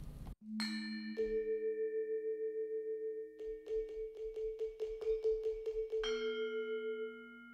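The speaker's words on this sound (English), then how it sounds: "is a Indonesian gamelan orchestra" Indonesian gamelan metallic percussion played in a loose, random pattern: ringing struck tones and sustained shimmering notes, then a quick run of repeated metallic strikes before a final bright chime, clear and alone.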